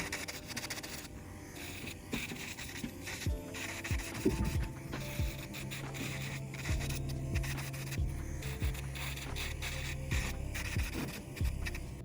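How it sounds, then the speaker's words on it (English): Fine grit sanding band scratching over the surface of polygel nails, a soft continuous rasping rub with small irregular strokes and a faint electric hum beneath, quiet and close, with no talking. "I'm just going to file over the surface of the nails just to like scratch them up a little bit. And I'm using a fine grit sanding band"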